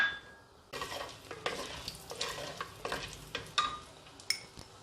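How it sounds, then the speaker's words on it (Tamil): Urad dal is dropped into about a tablespoon of hot oil for tempering and sizzles close by, with scraping stirs and light clinks of a utensil against the pan in an uneven rhythm. "அதில் நம்ம இந்த உளுத்தம்பருப்பை தாளிக்க போட்டுடலாம்."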